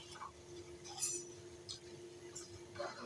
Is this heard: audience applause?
no